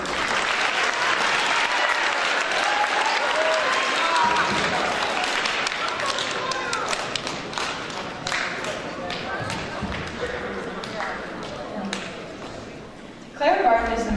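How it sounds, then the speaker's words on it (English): A school audience at an eighth-grade history tournament gives a loud round of applause, dense clapping that gradually thins and fades, ending with a short burst of sound. "One last round of applause for these two."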